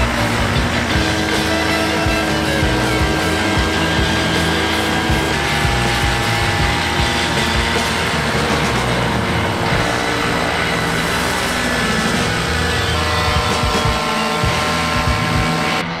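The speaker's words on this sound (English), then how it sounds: "So that's it, the breaking in of the engine is done" An Atom80 paramotor engine mounted on a Limitless frame runs steadily during break-in, a loud, sustained buzzing drone with slight shifts in pitch and no talk.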